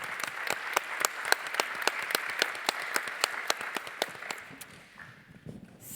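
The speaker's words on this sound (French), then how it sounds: "Mais Sylvie, voilà, on peut l'applaudir." Audience at a CJD business master class breaks into sharp, rhythmic clapping for a guest, dense and steady at first, then thinning and fading toward the end.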